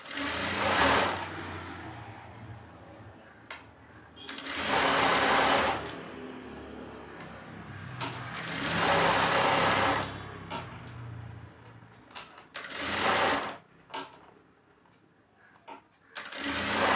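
Sewing machine stitching a blouse puff sleeve, close and loud in several whirring runs of a few seconds each, separated by brief pauses and small handling clicks.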